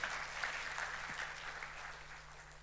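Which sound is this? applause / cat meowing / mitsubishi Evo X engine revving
applause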